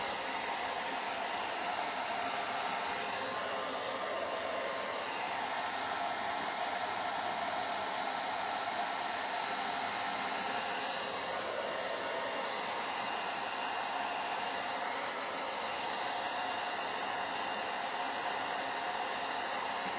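A heat tool blows hot air onto molded wood in a continuous, even whooshing roar. It holds at a steady level for the whole stretch, up close, with no talk.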